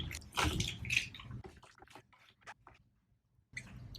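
Water splashes and drips in uneven bursts as a mesh knit shoe is rinsed by hand, with squishy wet sounds and brief quiet gaps.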